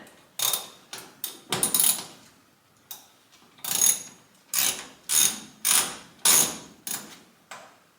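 Ratchet wrench driving a seat bolt into the floor of a 1967 Chevy C10 Stepside barn-find truck: a series of close, sharp clicking bursts, each quick run of clicks followed by a short pause, repeated about a dozen times.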